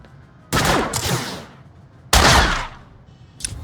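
Blaster gunfire from Star Wars: The Old Republic erupts in two loud, close bursts of rapid shots, each fading out, with a brief faint shot near the end.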